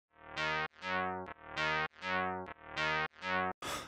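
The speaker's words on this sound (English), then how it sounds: "we get this really interesting phasey sort of mid-ranged focus sound that's essentially like a inverse mirror image of the original bass" A bass line processed through Oeksound Soothe2 in delta mode with narrow, selective bands, giving a phasey, hollow mid-range tone; seven sustained, swelling bass notes play alone in close succession, ending on a brief noisy burst.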